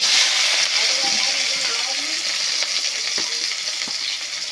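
Prawns hiss and crackle as they fry in hot oil, a steady, close, bright sizzle that fades slightly over the stretch, with a few faint clinks from a utensil.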